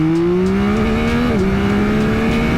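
A loud Nissan GT-R sports car engine revs steadily upward, its pitch climbing with a brief shift midway, close and continuous with no talking.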